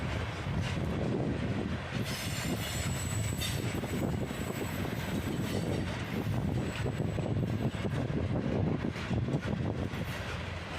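Long, slow freight train with a big cut of gondolas rumbling past at close range, a steady heavy roll of wheels with rhythmic clacking and occasional thin squeals of wheels on rail.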